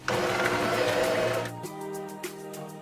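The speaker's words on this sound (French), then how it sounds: "Pour mettre les patates en purée, prendre un mixeur." An electric hand mixer whirs loudly as it mashes boiled potatoes into purée, a dense buzzing motor for about a second and a half, then dropping to a lighter, steadier hum with a brief knock partway through.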